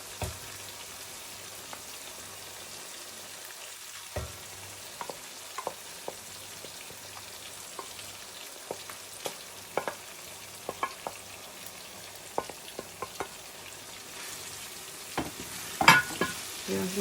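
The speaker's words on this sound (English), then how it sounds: "So I'm going to mix the whole thing together." Fried tomato paste being stirred through a pot of Nigerian party jollof rice, giving scattered scraping clicks and soft sizzling taps that repeat irregularly, close by, with no talking.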